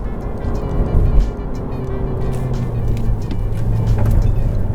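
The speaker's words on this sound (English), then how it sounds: "I genuinely like this car." A 2022 Honda Civic sedan driving, its steady low engine and road rumble continuous and close throughout, swelling slightly toward the end as it accelerates.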